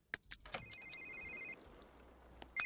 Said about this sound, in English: Then answer your phone.